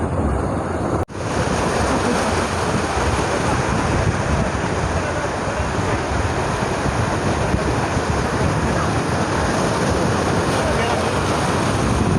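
Dangerous ocean waves breaking at rocky Mubarak Village beach in Karachi, a loud, continuous roar of surf mixed with strong wind buffeting the microphone, a brief dropout near the start, faint voices underneath.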